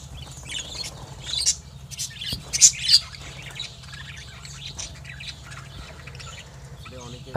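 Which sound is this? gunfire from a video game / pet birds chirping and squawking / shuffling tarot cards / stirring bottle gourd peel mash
pet birds chirping and squawking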